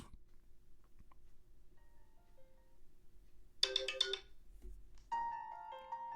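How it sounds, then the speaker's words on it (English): A bright electronic ringtone chimes from the small loudspeaker of a Unihertz 8849 Tank Mini 1 phone, a short melodic burst followed by a steadier tone pattern over quiet background hiss. "Pretty decent ringtone."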